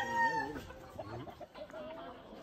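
A black rooster on a rooster farm in Ponce, Puerto Rico, clucks and calls nearby in a few throaty, warbling bursts, fairly loud against quiet background noise.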